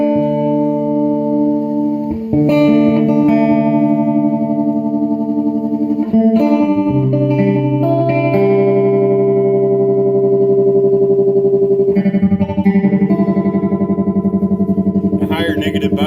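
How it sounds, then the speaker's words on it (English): A tube guitar amplifier with its bias backed off makes the output tubes oscillate into a tremolo. Sustained, distorted chords throb with a fast, steady pulse, loud and close, with a few changes of chord and no talking over them. "back the bias off, and you can hear how the output tubes start to oscillate and provide this tremolo"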